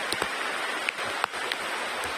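A downpour drums on a bamboo camping shelter as a constant, even roar of rain, with a few sharper drops striking nearby.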